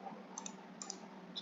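A few faint, crisp computer mouse clicks, spaced apart over a low steady hum, close by and alone.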